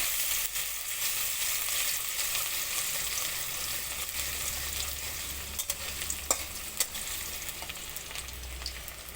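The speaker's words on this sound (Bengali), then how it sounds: "একটু আদা কুচি একটু রসুন কুচি এখন আমি এটা ভেজে নেব একটু ব্রাউন কালার করে নেব" Chopped ginger and garlic fry in hot oil in a pan for a Chinese vegetable dish, giving a steady, close sizzle with a few sharper crackles and pops toward the end and no talking.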